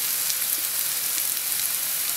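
Chopped garlic frying in a pan for chickpea rissoles, a steady, close hissing sizzle with faint crackles throughout.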